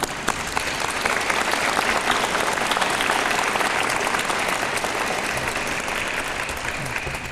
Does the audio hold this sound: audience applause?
yes